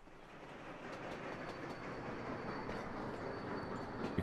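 Train rumble from the video game Sweet Transit, a steady rolling rail noise with faint clicking wheels, quiet and continuous throughout with no voices.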